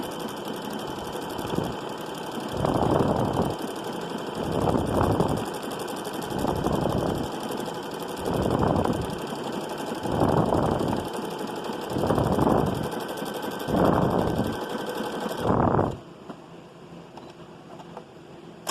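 Computerized sewing machine stitching a tight buttonhole on children's overalls, running in regular rapid bursts of about a second each with brief pauses between, then stopping near the end and leaving quiet room tone.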